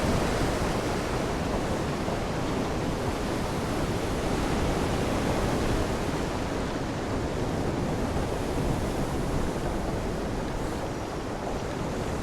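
Restless open sea during single-handed sailing on the Mediterranean, with strong wind; a steady, dense wash of waves and wind rushes continuously and evenly throughout, no voices.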